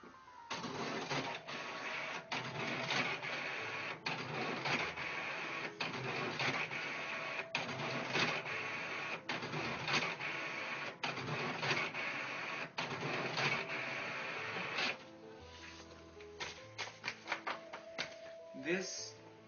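A printing press runs with a steady, rhythmic mechanical clatter of repeated clacks and thumps that slows into scattered knocks near the end, with a voice talking over it.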